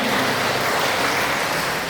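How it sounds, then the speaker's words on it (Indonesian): Dense, steady applause from an audience at a book talk, a continuous wash of many hands clapping at once, loud and even from start to finish with no voices breaking through. "Tepuk tangan lagi buat Nitania"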